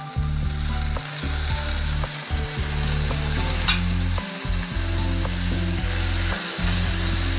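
Mudakathan greens frying with onion in a pan, a continuous loud sizzle broken by repeated stirring scrapes and brief pauses, close up with no voices.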